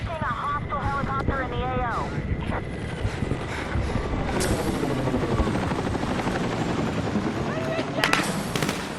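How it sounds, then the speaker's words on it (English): Hostile helicopter in the Battlefield 6 video game, its steady rotor drone running loud and continuous through the whole stretch, mixed with game noise, wind-like rush and a voice talking over it. "I'm tracking a hostile helicopter in the AO."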